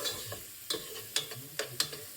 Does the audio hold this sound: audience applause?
no